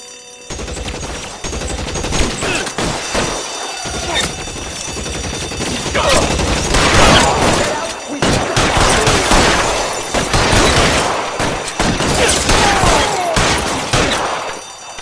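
Heavy gunfire rattles through a firefight in the L.A. Noire video game, dense bursts and overlapping shots building from scattered fire into a sustained, loud barrage with near-constant volleys.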